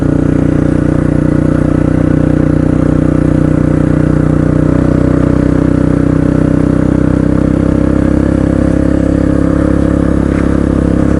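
A KLR motorcycle engine drones loud and close while riding along a canyon road, holding a steady, rumbling tone from start to finish.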